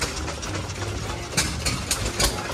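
A big Waterloo Boy antique engine runs at a county fair with a steady, rumbling, close-up chug, broken by a few louder rhythmic bursts over about two and a half seconds.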